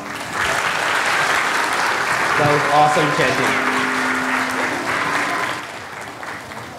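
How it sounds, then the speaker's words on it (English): An audience at the Chinmaya Somnath Summer Camp 2018 finale breaks into sustained applause that fills several seconds, while a voice speaks briefly over the clapping before it fades. "Can we give them all another big round of applause?"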